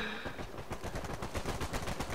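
Rapid gunfire in an Uncharted 4 multiplayer match rattles out as a dense, continuous burst of close shots for about two seconds, with no talk.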